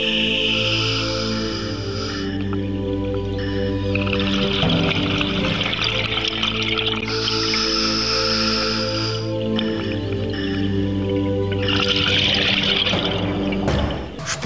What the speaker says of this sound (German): Das Wasser, das überall unter hohem Druck dem Schlot entweicht, ist kochend heiß.